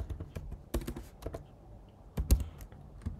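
Keys clack on a computer keyboard in short irregular bursts of close, crisp taps with brief pauses between.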